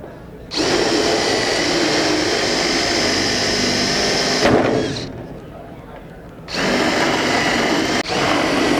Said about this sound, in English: So we're gonna drill it off.